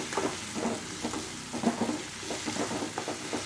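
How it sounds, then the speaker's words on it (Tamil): Coriander leaves sautéing in a pan, with a bright sizzle and repeated short scraping strokes from stirring, close and fairly loud, no talking. "கொத்தமல்லியை போட்டுட்டு ரொம்ப வதக்கக்கூடாது"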